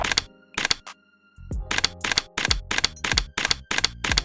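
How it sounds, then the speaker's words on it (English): A camera shutter fires in rapid bursts at a football home opener, with sharp repeated clicks in quick succession after a brief pause, close and loud with no talking. "I was smacking that shutter button when Devin came over."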